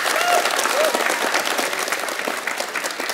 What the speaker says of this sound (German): Fetter Applaus für sie.